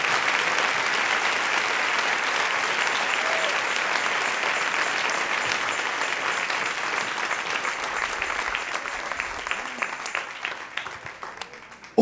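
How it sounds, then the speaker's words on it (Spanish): A church congregation applauding during a sermon, sustained crowd clapping that holds strong for several seconds, then thins into scattered individual claps and fades toward the end. "denle un aplauso al Rey en esta preciosa y hermosa mañana"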